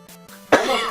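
A single sharp, loud cough bursts out about halfway through, following a quieter stretch of low background hum.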